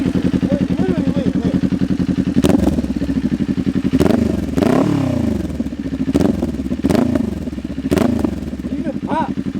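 Kawasaki Ninja 400 with a Leo Vince slip-on exhaust, revving repeatedly in sharp bursts over a steady idle. The exhaust is close and loud, and speech is likely underneath.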